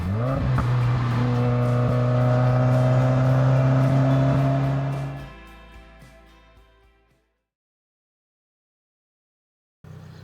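A modded 2021 Subaru WRX drives close by with a loud, steady engine drone and a brief tire squeal near the start, then fades out into silence.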